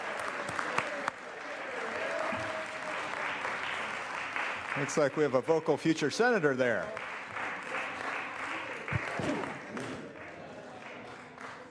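Ongoing applause in a state Senate chamber during a floor session, a broad wash of many hands clapping, with a few whoops and voices mixed in and someone speaking over it partway through.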